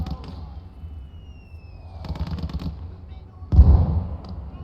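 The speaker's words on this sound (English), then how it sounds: "So that mortar's doing good work." Mortar fire in the WWII game Gates of Hell Ostfront: scattered dull booms and crackling bursts, ending with a loud heavy impact near the close, over faint distant battle noise.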